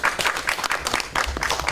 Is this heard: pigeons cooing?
no